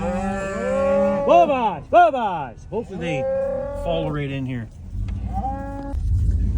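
Cattle on a farm moo repeatedly as they follow a truck up a laneway, several long rising and falling calls close by and loud, with someone talking under them and a vehicle engine rumbling.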